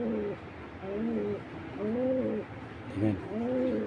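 An imported racing pigeon coos nearby in repeated throaty, rolling phrases, about five bursts with short pauses between them, over a faint background.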